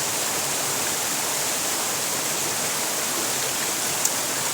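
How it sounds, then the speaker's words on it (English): Big waterfall at the end of a river in the New Zealand mountains, a steady, dense rushing roar heard close and alone, with no voices. "There's a big ass waterfall."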